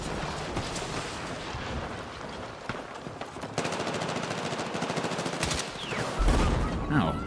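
High-recoil gun in the Battlefield 6 video game firing in rapid repeated bursts, loud and close, with rattling automatic fire and a heavier thump near the end.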